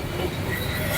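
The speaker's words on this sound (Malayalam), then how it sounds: "ക്ലോസ് റേഞ്ചിൽ ട്രെയിൻ പോകുന്നത്." Train rolling past at close range in Hanoi, a dense steady low rumble of wheels and carriages with a hissing top, loud and continuous for the whole second, no voices.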